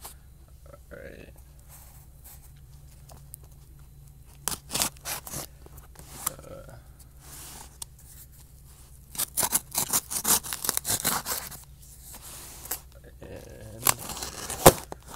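An eBay package of Xbox 360 games is cut open, with short bursts of snipping and scraping that grow busier later on, close and fairly loud, and someone talks in between.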